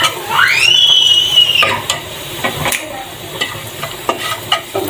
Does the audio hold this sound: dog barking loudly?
no